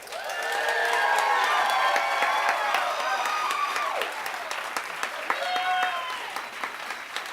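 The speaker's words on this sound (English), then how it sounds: "please clap very loudly for Julianne Villa." Steady audience applause at a Moth storytelling event fills the room, with cheering voices and whoops rising over the clapping before it slowly thins out.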